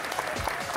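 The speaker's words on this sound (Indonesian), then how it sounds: "Tepuk tangan sekali lagi untuk tim Cabrek." A studio audience on an Indonesian TV cooking competition claps for a team of home cooks, a brief, dense burst of applause that runs evenly from start to finish.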